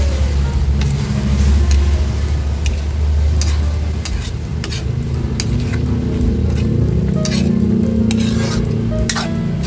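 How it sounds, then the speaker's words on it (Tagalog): Bitter gourd (ampalaya) sautéing in a pan is stirred steadily, with a continuous close sizzle and repeated scraping strokes of a utensil against the pan throughout. "Ayan guys, pwede na natin halu-haluin."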